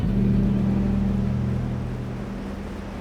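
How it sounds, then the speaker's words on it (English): A boat motors toward a dive site near Coiba, its engine a steady, close, low droning hum that eases slightly toward the end. "We're motoring to a dive site,"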